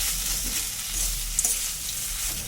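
A potato and crushed peanut filling is stirred in a hot pan, giving a steady soft sizzle and hiss with a couple of faint scrapes of the spoon, with no voices.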